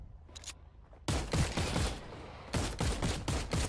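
Gunfire in the video game The Cycle, bursts of rapid automatic shots in two clusters separated by a quieter gap with fainter pops, loud and close with no talking.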